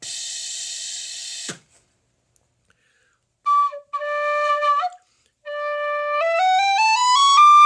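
A high, pure soprano D tin whistle plays short notes, then a rising run of steps, bright and close with brief pauses between phrases.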